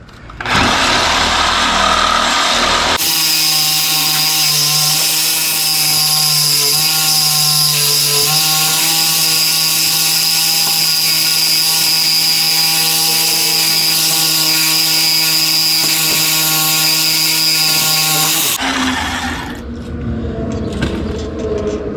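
A cutoff wheel grinds through metal on a Jeep in one loud, continuous whine that lasts about fifteen seconds, with a slight wavering in pitch. Quieter handling noise comes before and after the cut.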